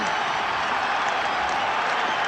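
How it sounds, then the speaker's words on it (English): A stadium crowd rises and applauds at the 1973 Ireland versus New Zealand rugby test, a dense, steady roar of clapping and cheering heard from a distance with no break. "But my goodness, the crowd now rising."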